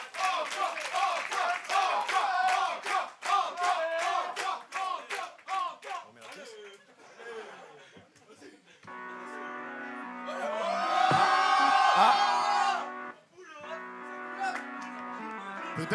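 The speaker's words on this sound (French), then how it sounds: "Applaudissez une dernière fois, Jim, s'il vous plaît." An audience at a music release party claps and cheers in a lively burst that thins out. Voices and tonal, music-like sounds follow later.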